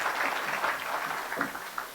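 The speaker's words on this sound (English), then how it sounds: "Let's give her a round of applause." Audience applause at a Salvation Army Christmas breakfast, a steady dense patter of many hands clapping throughout, moderately distant in a large room with no talk over it.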